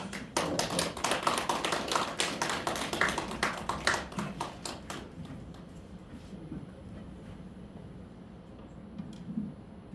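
Applause from an audience greeting a traditional Korean gugak singer at an association's annual general meeting, a dense burst of clapping that is loud at first, then thins and fades after about five seconds to faint room noise.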